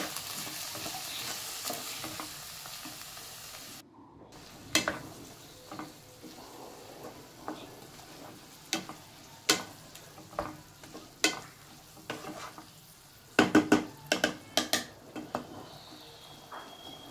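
Sprouted gram, potato and tomato frying in a pot for sambar, a soft steady sizzle broken by repeated close scrapes and taps of a spoon stirring against the pan.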